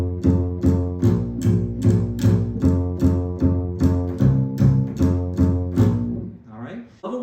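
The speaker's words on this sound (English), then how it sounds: "Level 1 of walking bass is nothing but the root." A plucked bass walks in steady quarter notes, about two per second, each note evenly spaced and ringing briefly before the next, with no other instruments.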